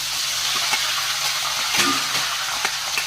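Green chillies and curry leaves sizzle and crackle in hot oil in a home kitchen for chitranna rice, a steady frying hiss with a few sharper pops and stirring clicks, close and continuous.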